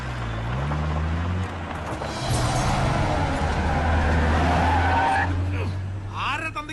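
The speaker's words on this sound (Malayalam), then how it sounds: "നീ വണ്ടി എടുക്കടാ പോപ്പ." A car pulls away with tires skidding and squealing, the engine loud and close as it accelerates over a film soundtrack, with bursts of chirping at the end.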